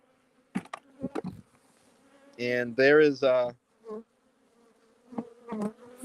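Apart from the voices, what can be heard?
honey bees buzzing around hive frames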